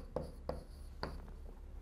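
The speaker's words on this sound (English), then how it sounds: "So let me write down this term down here." Chalk or marker strokes on a classroom board during a lecture give three or four short, distinct taps and scratches close by, with quiet pauses between them.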